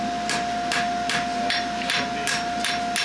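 Sharp metallic hammer blows ring out at a steady rhythm, about two per second, as a farrier shapes a horseshoe, with a continuous high ringing tone underneath.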